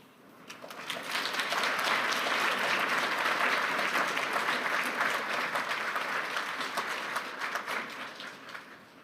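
Audience at the World Economic Forum in Davos applauding as Vice Premier Ding Xuexiang is welcomed to the stage, a large hall of steady clapping that swells quickly, holds for several seconds and slowly tapers.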